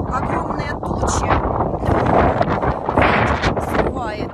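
Wind buffets the microphone in steady, rushing gusts along an old street of abandoned buildings in Kharkiv under heavy storm clouds, loud and continuous throughout with no talk.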